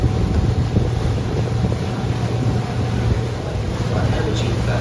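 A tour boat cruises across Toronto harbour in summer, its engine a steady low drone with wind buffeting the microphone and water washing alongside, continuous and fairly loud throughout, with faint voices in the background.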